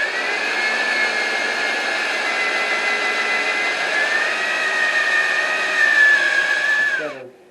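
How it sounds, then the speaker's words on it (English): A power drill bores into the peg head end of a guitar neck with a loud, steady, high whine held for about seven seconds, then winds down as it stops. "we're going to drill in from the end a little bit wider than this hole"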